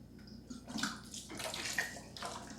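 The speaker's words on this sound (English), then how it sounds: "use your siphon again and siphon down these three sections" An aquarium siphon in a Fluval Flex 32-gallon tank sucks water from the filter sections, giving a soft, continuous watery rush with faint gurgles, quiet and close.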